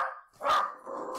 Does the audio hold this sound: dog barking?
yes